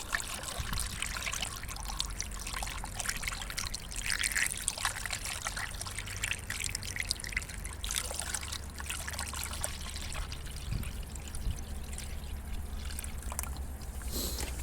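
Water trickles and pours steadily into the funnel of a Yanmar YDP20N single-cylinder diesel water pump for a long stretch, a close, continuous liquid stream with faint background hum.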